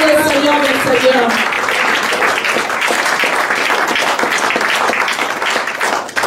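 A congregation applauds during a Pentecost church service, with dense steady clapping and voices filling the room after a brief spoken or sung opening.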